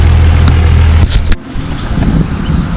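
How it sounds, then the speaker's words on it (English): A truck pulls away from a small homestead, its loud engine rumble close at first, then a sharp change as it moves off and fades into a steadier, more distant drone. "My son's leaving right now. You'll hear his truck."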